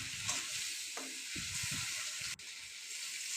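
Ripe tamarind dropped into a pan of frying small shrimp and vegetables, a continuous hiss with a few stirring scrapes and clatters, then one sharp click near the end.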